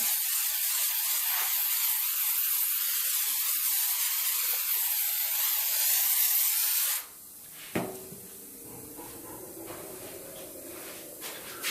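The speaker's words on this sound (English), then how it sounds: "And then just spray another quick top coat." A loud, steady aerosol spray hisses for several seconds as a top coat goes onto a classic car's paint, stops abruptly, then a few faint clicks and handling noises follow.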